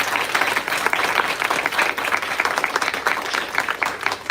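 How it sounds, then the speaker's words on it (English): A school graduation audience applauds, dense sustained clapping from many hands filling the hall at an even, full volume throughout. "So one big round of applause to them."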